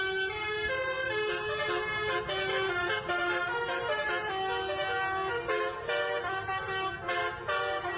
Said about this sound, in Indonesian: Mereka berlarian dan bersorak menikmati alunan klakson telolet